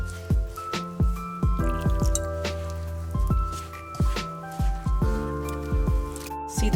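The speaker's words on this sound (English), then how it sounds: "and I will knead this dough." Wet wheat dough for puran poli being kneaded by hand, giving repeated soft squelches and sticky squishes in an irregular rhythm, close and fairly loud, with no talking.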